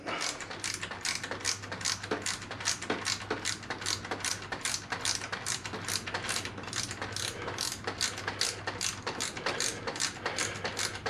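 A ratchet clicks rapidly and steadily as it nips up the long clutch line bolt on a 2003 Honda VFR800 VTEC, the crisp close ticks running evenly throughout with no talk.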